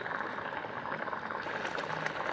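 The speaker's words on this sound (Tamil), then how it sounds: "சுண்டுற வரைக்கும் அடுப்பில் வச்சு நல்லா கொதிக்க விடுவோம்" Steady bubbling and simmering of thick carrot halwa in a pan, continuous and close, with small pops breaking through.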